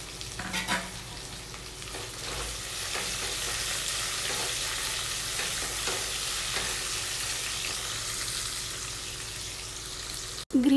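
Green chillies sizzle and crackle in hot oil with garlic paste, a steady close frying hiss that runs unbroken for about ten seconds, with a brief clatter of stirring near the start.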